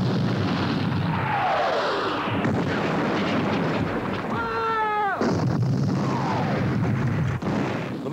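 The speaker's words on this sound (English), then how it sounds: "The main action at Waterloo opened with an artillery bombardment when Napoleon's grand battery of 80 guns fired for over half an hour across the valley separating the two armies" Artillery bombardment from cannon fire, with heavy continuous booms and rumbling over a dense battle din, alongside whistling shells and falling tones that come and go.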